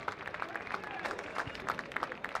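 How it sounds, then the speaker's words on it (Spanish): A crowd at a Chilean rodeo series applauds the winning riders, with sparse scattered claps over a busy crowd murmur at moderate distance. "Fuerte el aplauso para ellos."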